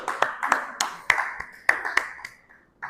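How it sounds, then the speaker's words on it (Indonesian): A small group in a classroom claps for the first group of students, a sparse, uneven patter of separate claps that thins out and fades before one last clap at the end. "Wah, tepuk tangan kelompok 1."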